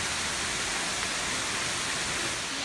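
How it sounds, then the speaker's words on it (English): Waterfall in a city, a steady broadband rush of falling water that stays loud and constant throughout, with no voices. "Alright, so we made it to the waterfall."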